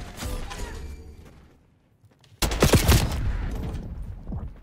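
Rapid bursts of AK74 automatic fire in the video game Call of Duty: Black Ops 6, a dense loud volley after a quieter stretch, with no talk over it.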